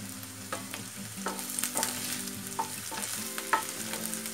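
Ginger, garlic, onion and fennel seeds fry in hot oil for a potato and green pea curry, giving a steady close sizzle broken by irregular spatula taps and scrapes against the pan.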